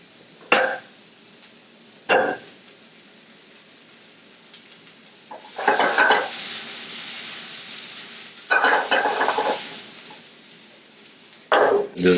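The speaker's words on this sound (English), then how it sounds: "Let it simmer now with that garlic in." String beans and garlic simmer in olive oil, giving a sizzling, crackling fry in several loud bursts separated by quieter stretches of low sputtering; no talk.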